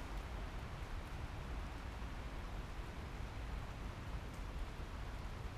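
Steady rain falls outdoors as a continuous, even hiss of drops with no other distinct sounds.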